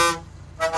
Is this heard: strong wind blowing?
no